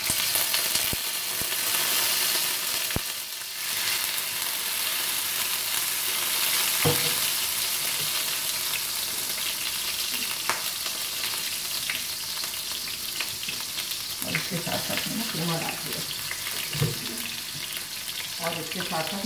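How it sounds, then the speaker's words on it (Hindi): Garlic fries in hot oil in a pan, a steady close sizzle that lasts throughout, with occasional stirring and scraping sounds. "उसमें तेल डाला मैंने और अब मैं इसमें लहसुन डाल रही हूँ"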